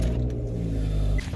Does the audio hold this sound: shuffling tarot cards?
no